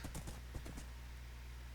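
Minecraft horse hooves clip-clop in a short burst of four or five quick steps at the start, then fade into a steady low hum with no talk.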